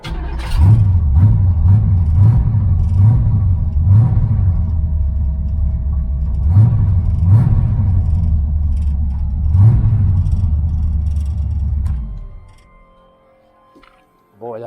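A 1981 Camaro Z28 V8 with an electric fuel pump problem runs loudly nearby, a deep, throbbing idle with a few short revs, then dies abruptly and leaves near silence.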